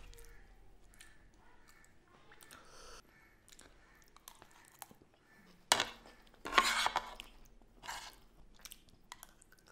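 Someone eats makki ki roti with sarson ka saag close up, with faint, intermittent chewing and soft clinks of cutlery against a plate in a quiet room.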